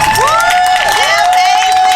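Crowd at a Penn Center Juneteenth fashion showcase cheers and claps, with children's shrill whoops and whistles riding over a short, busy burst of applause.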